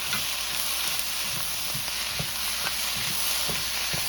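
Ginger, garlic and green onion sizzle loudly and steadily in a wok for Dominican chofan fried rice, a dense hiss with soft stirring knocks throughout.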